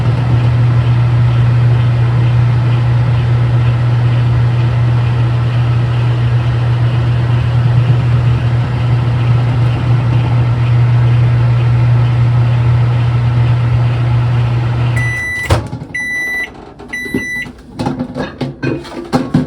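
A microwave oven melting chocolate chips hums steadily and loudly for about fifteen seconds, then stops and gives a string of three short beeps followed by faint clatter.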